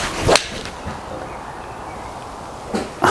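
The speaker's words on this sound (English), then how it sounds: "that first shot is very evident, very loud off the face" Golf shots with a Callaway Steelhead XR iron: a sharp, loud crack of the clubface on the ball near the start, then a second strike near the end.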